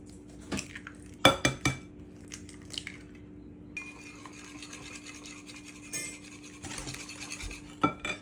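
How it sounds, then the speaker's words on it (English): Two eggs are cracked into a bowl: a few sharp taps against the rim in quick succession, then softer clinks and handling in a quiet kitchen. "Next, crack in 2 eggs."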